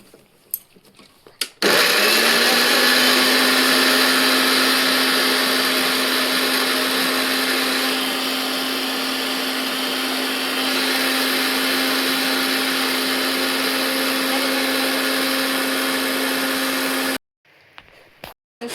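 A kitchen mixer grinds beetroot in one loud, continuous whir lasting about fifteen seconds, with a steady motor drone and a rough churning edge, starting and stopping abruptly between brief quiet moments.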